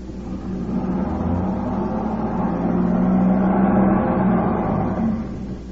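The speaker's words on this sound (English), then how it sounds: "Come on, start the car." A car engine cranks and then revs with a steady droning roar, close and fairly loud, for an old suspense radio drama where the car is stuck in a ditch; no voices over it.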